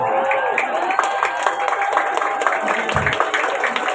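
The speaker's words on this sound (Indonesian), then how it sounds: "Tepuk tangan luar biasa dari peserta." A crowd applauds steadily at the prize announcement of an Islamic New Year torch parade, dense clapping filling the space, with a murmur of voices mixed in.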